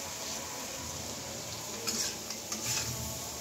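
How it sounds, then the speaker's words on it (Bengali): Spices fry in a pan for a fish curry with a soft, steady sizzle, broken by a few brief clinks and stirring sounds near the end, no talking. "মশলাটাও একটু ভেজে নিচ্ছি"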